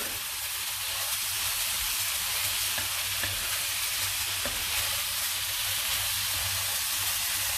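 Toasted erişte noodles with crumbled full-fat white cheese stirred in a hot pan, a continuous dense sizzle with soft scraping of the spoon, close and steady throughout.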